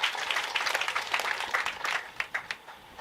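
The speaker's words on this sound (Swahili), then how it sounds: "Wapigieni makofi jameni." An audience at a county government event applauding, a burst of close, brisk clapping that thins out into scattered separate claps over about three seconds.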